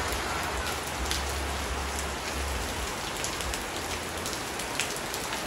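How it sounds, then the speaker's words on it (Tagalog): Heavy rain pours down on surfaces outside a house, making a dense, even roar with scattered sharp drop taps throughout. No voices are heard. "Ang lakas ng ulan, unti-unting bumubuhay."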